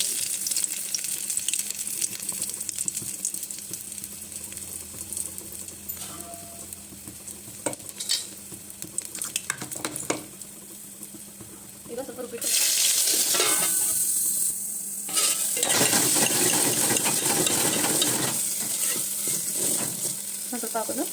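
Sambar tempering fries in hot oil with a low crackling sizzle and intermittent stirring clatter, then a louder, denser hiss swells and holds toward the end as more goes into the pan.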